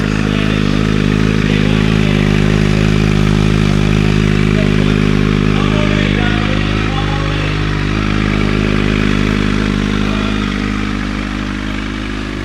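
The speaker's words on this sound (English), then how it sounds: "my guy said he's gonna do a burnout on the trailer" A Toyota Supra's engine roars continuously at high revs during a burnout on a trailer, loud and sustained with a steady droning tone that eases only slightly toward the end.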